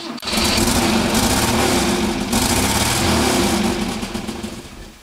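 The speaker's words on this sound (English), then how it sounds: "I rev it and it runs on 4 cylinders" A KE35 car engine that will not idle revs hard and holds at high speed, a loud continuous roar that eases off toward the end.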